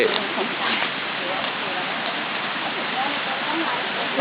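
A stream flows beside a forest waterfall, making a steady, close, loud rushing wash that continues without a break, with voices faint beneath it.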